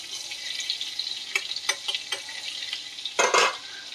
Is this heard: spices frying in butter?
yes